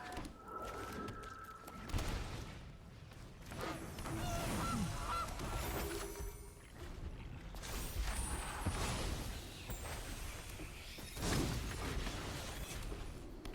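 Honking from a goose card in MTG Arena, repeated cartoonish goose honks over dense game music and effects that keep going for the whole stretch, with no talking.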